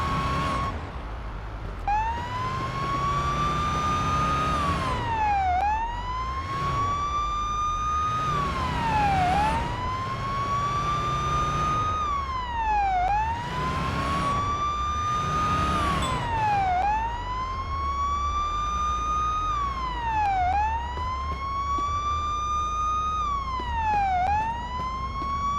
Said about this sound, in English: Actually just gonna turn off my siren